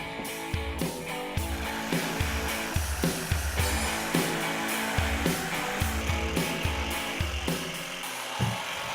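A power drill driving pocket-hole screws into wood whirs in short, repeated bursts, spinning up and stopping over and over at a steady pace, loud and close.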